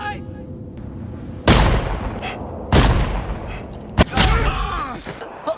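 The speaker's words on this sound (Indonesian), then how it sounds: "meski Matius sudah menembak sesuai dengan arahannya, Ishak harus melihat Matius kembali tertembak di bagian tubuhnya" Gunshots in a film scene ring out as three loud, sharp blasts spaced roughly a second apart over a low background, with a narrator speaking around them.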